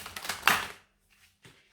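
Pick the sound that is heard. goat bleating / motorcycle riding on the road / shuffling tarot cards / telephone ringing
shuffling tarot cards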